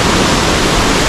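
Waterfall at Hidden Paradise Resort in Infanta, Quezon, a loud close-up roar of rushing, crashing water, dense and unbroken for the whole stretch, with no voices.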